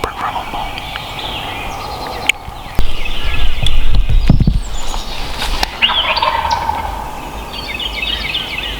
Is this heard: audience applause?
no